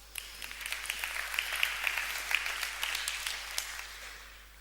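Audience applause at a TEDx talk on understanding music, a steady wash of many hands clapping, moderately distant and fairly even throughout with no talking over it.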